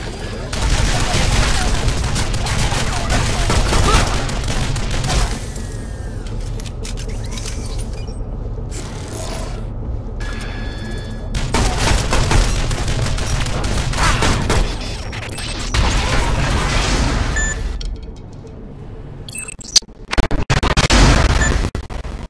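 Turret gunfire in the video game Shadow Complex, sustained rapid bursts of shots and mechanical clatter coming in loud waves separated by short quieter gaps.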